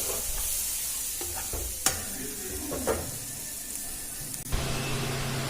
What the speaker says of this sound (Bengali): ভেজে এতে জল দেব না, এভাবে নাড়াচাড়া করে নামিয়ে নেব